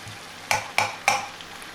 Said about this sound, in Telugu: అల్లం వెల్లుల్లి పేస్ట్ కొంచెం వేస్తున్నాను అక్కడ వేగిన తర్వాత అప్పుడు మొత్తం కలిపేద్దాం